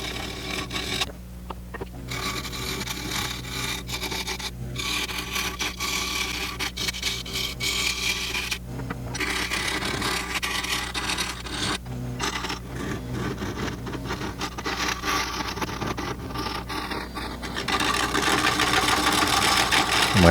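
A carbide tool hollows out a spinning wood and resin piece on a lathe, making a continuous rough scraping and rubbing over the motor's hum; close and steady, with no voices.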